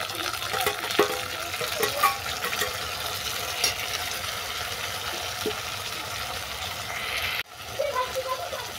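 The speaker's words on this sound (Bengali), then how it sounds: "দিয়ে দিলাম কাঁকড়া, দিচ্ছি আদা রসুন পেঁয়াজ বাটা" Crab frying in a pan with ginger, garlic and onion paste, a steady bright sizzle with occasional stirring knocks, cut off sharply near the end before resuming.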